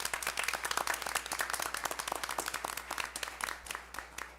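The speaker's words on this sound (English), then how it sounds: "So if we could get a round of applause for Larry." A room at a village board meeting breaks into applause for Cook County commissioner Larry Suffredin, who is there to swear someone in; many hands clap in a dense, steady burst that tapers slightly toward the end, with no talking over it.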